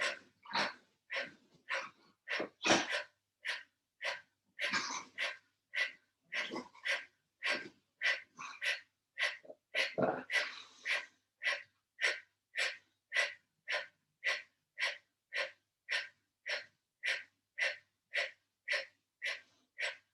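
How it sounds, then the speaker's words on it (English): A person does a yoga breathing exercise, pushing out rapid, forceful exhales through the nose in a steady, regular rhythm. The sharp puffs are close and repeat dozens of times with no talking. "we're gonna do this for 50 exhales in one set"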